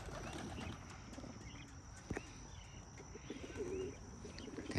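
Pigeons being let out of a loft coo and call softly at middle distance, their low murmurs steady under outdoor background noise, with one brief sharp sound about midway.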